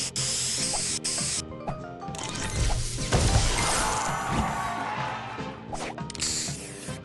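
A spray booster effect in a match puzzle video game: a burst of hissing spray and crashing impacts over upbeat, looping game music, loud and continuous for several seconds.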